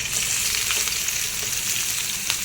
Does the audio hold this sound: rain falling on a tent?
no